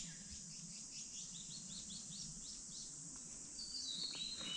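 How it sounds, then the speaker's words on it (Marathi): Birds chirp outside at dawn in a forest camping spot. Quick repeated high calls ring out over a faint, steady insect drone, heard quietly from some distance. "पक्ष्यांचं किलबिलाट चालू आहे बाहेर. तुम्ही आवाज ऐकू शकता."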